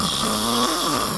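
A woman imitates snoring with her voice, producing a single drawn-out, rasping nasal snore that is loud and close.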